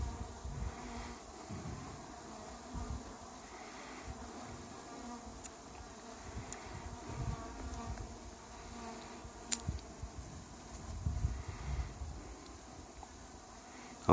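Honey bees buzz steadily around backyard bee hives, a soft continuous drone with occasional closer insects passing by, and no talking.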